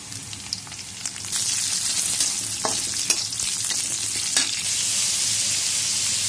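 Green chilies hit a hot pan of frying shrimp, bursting into a loud, steady sizzle that swells after the first second and holds, with a few spatula scrapes and clicks mixed in.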